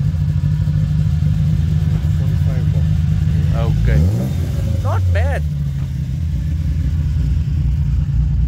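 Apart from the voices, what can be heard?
car engine rumbling through free-flow exhaust pipe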